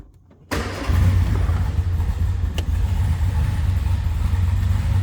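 Indoors, a 1960 Austin-Healey Sprite in neutral is started with its pull-out starter: near-silence, then an abrupt catch at about half a second as the engine fires and settles into a loud, steady low-pitched idle.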